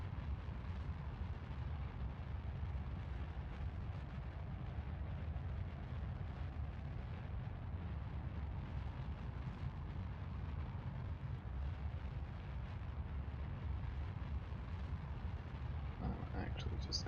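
A rocket launches in Kerbal Space Program with a steady, heavy low-end engine roar that rumbles continuously at high loudness, broad and unbroken for the whole stretch.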